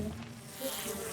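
Bees buzz in the video game Minecraft, a steady close insect drone with slight wavering in pitch, heard alone.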